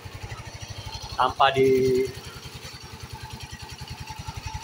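A Yamaha Soul GT 125 motorcycle engine idles after a compression-loss repair, a steady rapid low putter throughout, with someone speaking briefly over it.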